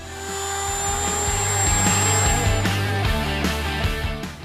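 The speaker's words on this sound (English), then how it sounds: "I'm going to use a Dremel with a sanding wheel to do this." A Dremel rotary tool fitted with a sanding wheel grinds a plastic dash cover in a 5th Gen RAM interior, giving a steady high whine close by that holds for several seconds with small pitch shifts as it bites.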